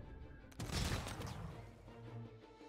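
Volley of musket gunfire from units in the strategy game Humankind: a loud burst of overlapping shots that fades into lower rumbling, with no talk.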